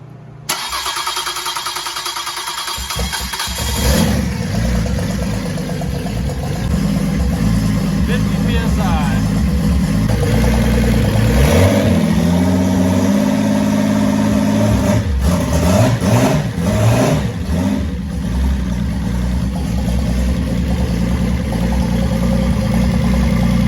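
An L28ET turbocharged inline-six cranks and fires up at about four seconds, then settles into a loud, steady rumble with a few revs and some talk over it.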